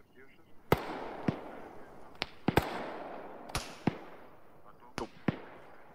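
Gunfire in a military video game: sharp, distant single shots crack at irregular intervals, about nine in six seconds, over a soft hissing background, while players talk quietly in between.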